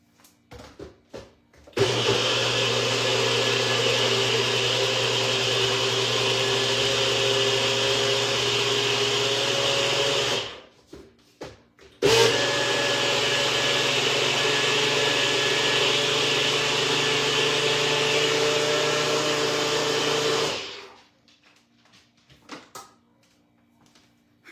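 A blender grinds fruit in two long, loud bursts of steady whirring, each about eight to ten seconds, with a short pause between them.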